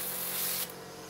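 Short hiss of spray paint misting onto a part of a 1/48 scale Eduard Tempest Mk.V plastic model kit, steady and close, fading slightly at the end.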